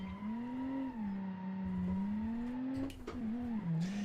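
A car launches in the BeamNG driving game: a single engine note climbs and dips through revs with a brief tyre squeal near the end, loud and close.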